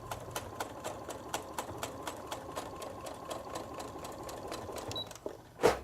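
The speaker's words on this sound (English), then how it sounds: "And now we're going to stitch it down." A sewing machine stitches gathered cotton down onto a costume waistband, a steady rapid mechanical whir with a regular needle beat, close and alone, ending in a brief louder clunk.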